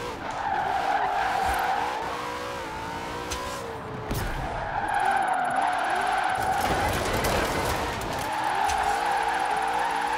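Ford Mustang drifting in the racing game Forza Horizon 4: sustained loud tire squeal and skidding over a revving engine, continuous with shifting pitch through the whole stretch.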